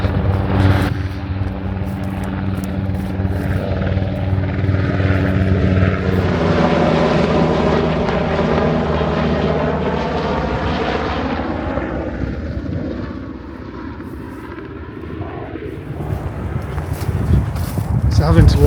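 A propeller airplane engine drones loudly and steadily at an airport, its pitch slowly shifting as it passes, with a person talking over it.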